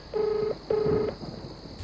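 Two steady electronic tones from a telephone being dialed, each lasting under half a second with a short gap, sound over a faint room hum.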